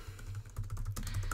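Fingers type on a computer keyboard in quick, close, irregular clicks over a brief stretch, with no talk over them.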